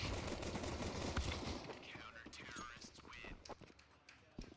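Bursts of gunfire from a Counter-Strike match at a LAN tournament crackle densely at first, then thin to scattered shots while commentators talk over the action.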